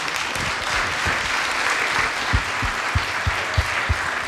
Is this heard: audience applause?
yes